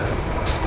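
Steady rumble and rattle of a moving passenger train heard from inside the carriage, with a continuous broadband roar and a brief louder hiss near the end, no voices.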